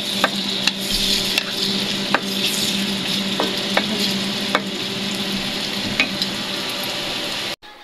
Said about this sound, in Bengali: এখানে ভাজি করার জন্য মরিচ, পেঁয়াজ আর তেল দিয়ে ভালোভাবে ভেজে নিচ্ছে।